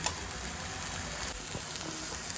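Squid masala sautés in a pan with turmeric and masala powder, a dense continuous sizzle with faint scraping and no talking.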